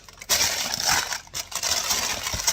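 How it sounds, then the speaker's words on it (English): Close, loud crinkling and crushing of parchment paper in several bursts, with brief pauses between handfuls. "So I crinkle it up so it forms easier into the basket."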